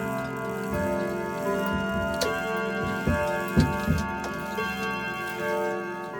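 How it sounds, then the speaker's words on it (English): A Howard Miller grandfather clock with an Argos movement ticks steadily and close by, with a few louder knocks partway through from handling near the case. "It is a Howard Miller grandfather clock."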